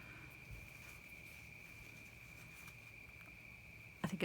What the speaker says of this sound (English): You can probably hear the cicadas though